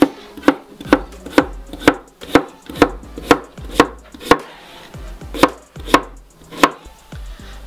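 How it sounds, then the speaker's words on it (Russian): Knife dicing zucchini into cubes on a cutting board, a steady rhythm of crisp, evenly spaced chops heard close and loud with no talking. "Также нарезаем кубиком."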